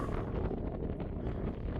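Steady wind buffeting a microphone on the Franconia Range along the Appalachian Trail, a dense low rumble with gusty texture throughout and no other sounds.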